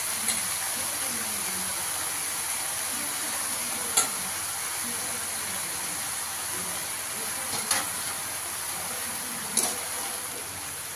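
Vegetables for sapala tarkari stirred and mixed in a frying pan, a steady close sizzling hiss running throughout with three brief sharp scrapes of the spatula spaced a few seconds apart.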